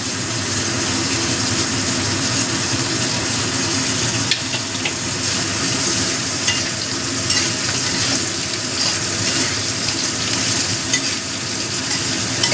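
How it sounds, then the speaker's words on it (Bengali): Chopped onions sizzle and hiss steadily in a hot pan with frying potatoes for a Bengali fish chorchori, with stirring scrapes throughout. The sizzle is loud, close and continuous. "এবার আমি পেঁয়াজ কুচিটা দিয়ে দিলাম।"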